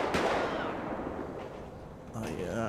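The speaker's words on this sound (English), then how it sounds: "Oh, they shooting at the police." Gunfire in GTA 5 as shots are fired at police: a sharp blast at the start, then a rumbling echo, another burst near the end, with a voice partly over it.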